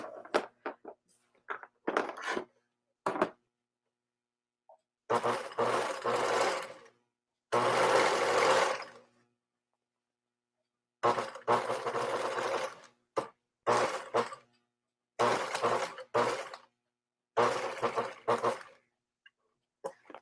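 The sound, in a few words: sewing machine stitching a shirt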